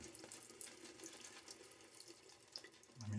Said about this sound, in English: So let's get some water dribbles going.